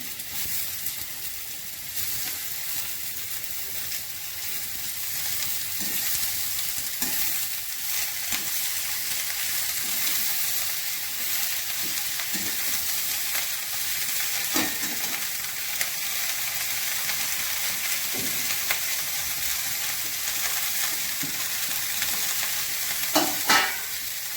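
Shredded cabbage with green chillies frying and being stirred in a pan, a steady broadband sizzle running throughout with occasional scraping clicks of the spoon, alone without talk.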